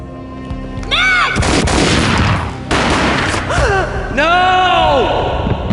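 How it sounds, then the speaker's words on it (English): Gunfire in the video game Max Payne, loud booming shots and crashes mixed with dramatic sweeping musical tones and swells, dense and close throughout. "A gunshot boomed and she fell down in slow motion."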